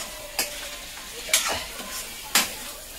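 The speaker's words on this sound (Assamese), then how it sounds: "পিঁয়াজখিনি অকণমান দেৰি লৰাই পেলাই" Onions fry in a pan for mutton gravy, a soft steady sizzle broken by three sharp scraping strokes of the stirring spoon, close by with no talking.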